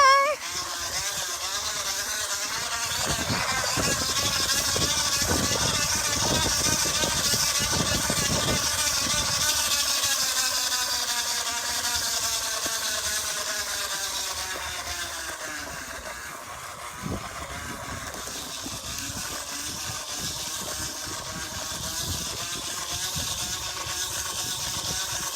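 A plastic water bottle pressed against a turning bicycle tire gives a steady buzzing, motor-like drone that runs for the whole stretch, close and fairly loud, with a voice heard now and then over it.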